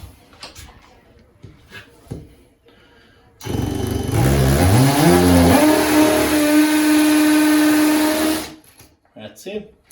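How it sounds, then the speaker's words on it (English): A loud power drill whirs for about five seconds, drilling into a wall to fit a towel rail, its pitch climbing as it bites in, with faint handling noises and brief talk before and after. "so I know this deep I need to drill in"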